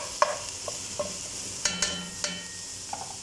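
Garlic sautés in a pan for ginataang gulay, a soft sizzle broken by sharp scraping stirs and clinks of the utensil against the pan.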